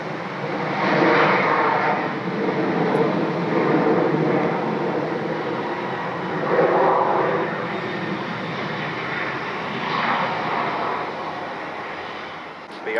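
At Atlanta Hartsfield-Jackson Airport, an airliner's engines roar steadily from the runway at a distance, swelling and easing over several seconds in stormy weather, with some faint talk.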